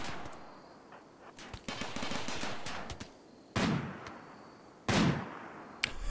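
Gunfire in the video game RimWorld, rapid bursts of shots followed by two loud separate blasts and a final short crack.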